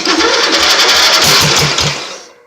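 A hotrod lawnmower engine cranks in a loud, rhythmic chug of several pulses, then the sound trails off without catching, heard up close.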